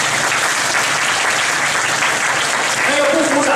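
Graduating students in a crosstalk comedy audience break into loud, dense applause, a sustained roar of clapping that holds steady from start to finish.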